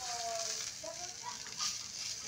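Vegetables for a hotdog sandwich frying in a pan, a soft continuous sizzle with faint hiss, quiet and brief, with slight background tones.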